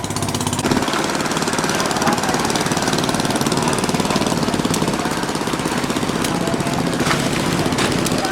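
Steady, loud chugging of a small boat engine on a wooden tourist boat on the Mekong River Delta, running continuously and near, with a rapid knocking rhythm throughout.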